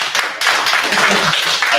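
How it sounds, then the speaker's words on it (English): A crowd at a gig worker town hall summit bursts into a short, loud patter of dense hand clapping lasting under two seconds. "that should get a clap"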